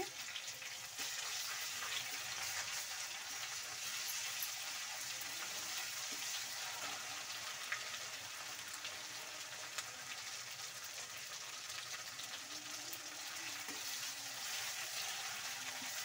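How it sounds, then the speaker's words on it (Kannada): Garlic ginger paste fries in a pan, giving a steady, even crackle and hiss that runs evenly throughout with no voices. "ಬೆಳ್ಳುಳ್ಳಿ ಶುಂಠಿ ಪೇಸ್ಟು ಚೆನ್ನಾಗಿ ಫ್ರೈ ಆಗಿದೆ ನೋಡಿ."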